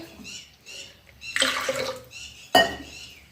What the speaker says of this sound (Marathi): आणि आता चला हे काय आणखी थोडं पाणी टाकते